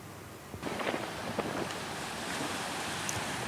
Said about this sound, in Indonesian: musim angin kencang disertai gelombang tinggi terjadi di perairan Pantai Puger